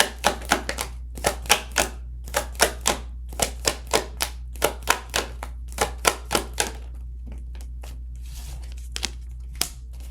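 Tarot cards are shuffled and drawn, giving a run of sharp, rapid papery flicks and slaps in quick bursts that thin out into a few scattered snaps, close and fairly quiet over a low steady hum.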